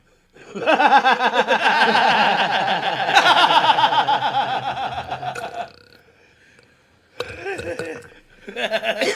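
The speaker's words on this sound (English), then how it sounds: "That was a gurgly burp" One long, gurgling burp rolls on for several seconds, loud and close, with a rattling, bubbly texture, followed after a short silence by two briefer bursts of similar throaty sound.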